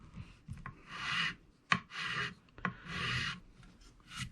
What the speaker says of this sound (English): what we're going to do is just slowly start filing this down